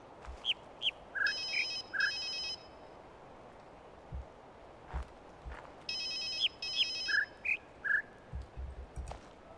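Puzzle tones in the video game The Witness: short bright beeping notes at high, mid and low pitches play in quick sequences, each run followed by a held buzzing chord, repeated twice over a soft hissing background.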